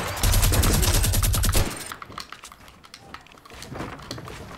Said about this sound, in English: I'm getting shot by his teammate